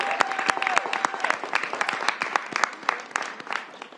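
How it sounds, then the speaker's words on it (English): A small audience applauds high school students at a mayoral press event, with distinct individual hand claps in an uneven, fairly close patter and a faint tone in the background. "Let's give the Ballou students a round of applause."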